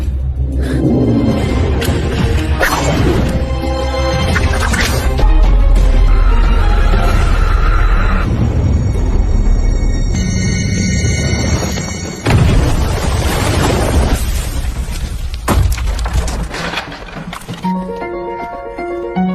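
A detonator-triggered bomb blast in a cartel action film, heard as loud, sustained rumbling booms and crashing debris mixed with a dense film score, with no speech over it.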